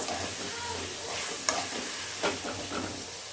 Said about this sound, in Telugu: చూడండి ఇట్లా కొంచెము మంచిగా బాగా ఫ్రై కావాలి